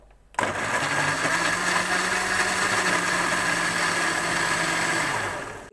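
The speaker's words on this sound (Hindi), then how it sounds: "हम इसको कवर करेंगे और अच्छी तरह से ब्लेंड कर लेंगे।" An electric blender whirs loudly and steadily while blending chutney for mini samosas, kicking in abruptly after a brief quiet moment and running at a constant pitch before winding down at the end.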